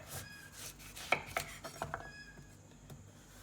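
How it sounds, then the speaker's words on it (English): A knife slicing butternut squash into thin slices, a few distinct cutting knocks against the board, quiet and close. "you're gonna just make thin slices"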